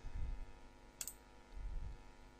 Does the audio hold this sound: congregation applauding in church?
no